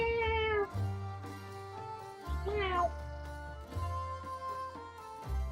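A pet cat meows several times up close, with drawn-out rising and falling calls in clear separate bursts, while a person talks softly nearby.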